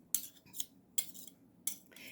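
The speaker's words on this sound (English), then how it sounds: "Mom cutting the butter pats, cold butter, into the Bisquick" Cold butter pats being cut into Bisquick mix with a metal utensil for apple cobbler, heard as a few sharp scraping clinks in short bursts against a bowl, close and fairly quiet.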